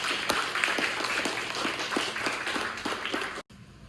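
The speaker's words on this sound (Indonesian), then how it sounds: "Kita berikan aplaus kepada teman yang sudah bertanya." An audience at an Indonesian nursing academy teaching session claps for a questioner, a steady spatter of many hands at moderate loudness that stops abruptly near the end.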